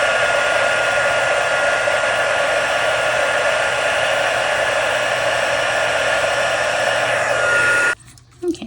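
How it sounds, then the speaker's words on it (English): Loud, steady blowing roar of a heat tool setting embossing powder on a handmade birthday card, running close and continuous for about eight seconds before cutting off abruptly, with a faint rustle afterward. "Let me heat set this."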